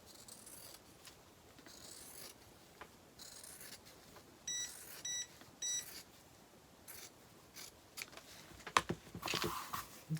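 A heated clothes iron gives three short electronic beeps in the middle, with rustling and rubbing of fabric and crafting materials around it and a sharper clatter near the end, all fairly quiet.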